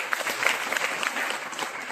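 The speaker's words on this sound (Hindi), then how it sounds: "में उनके लिए एक बार तालियों से स्वागत करता हूँ।" A small group at a workplace manual-handling training session gives a brief welcoming round of applause, steady scattered claps heard close and fairly quiet.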